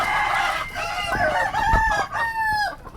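Roosters crowing among a farm flock of chickens, several overlapping cock-a-doodle-doo calls close by and loud, with clucking underneath.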